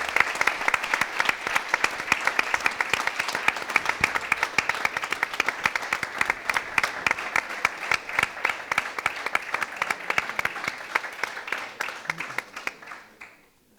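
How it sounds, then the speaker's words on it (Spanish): Audience applause at a centenary tour ceremony of the Spanish hockey federation in Valencia, a dense steady clapping from a crowd lasting about thirteen seconds before tapering off at the end. "Por favor, un fuerte aplauso para Maite."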